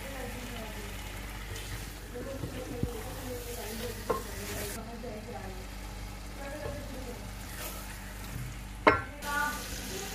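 Chicken stir-fried in oil at home, with a low sizzle under scraping and stirring from a spatula, a few sharp clinks against the pan, and a voice speaking in the background.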